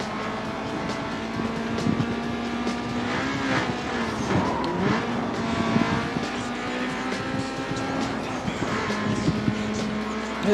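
Race car engine roaring and shifting pitch with occasional tire squeal in Need for Speed: Most Wanted, a final Blacklist race against a rival, loud and continuous without talk.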